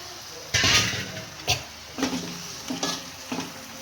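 Fish pieces coated in masala drop into hot oil with a sudden loud sizzle, followed by scraping stirs and softer bursts of frying as they are turned in the pan.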